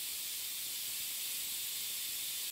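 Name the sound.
pressure cooker whistle and steam hiss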